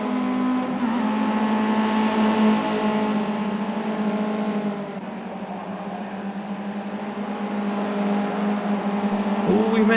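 A race car engine in a BTCC career mode racing game drones steadily at high revs, a loud sustained buzzing tone that dips briefly mid-way and then climbs again, with other cars faintly around.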